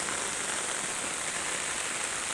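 Heavy rain from storm Bualoi pours down in Laos. It is a dense, constant hiss of drops drumming on a surface, steady and fairly loud with no voices.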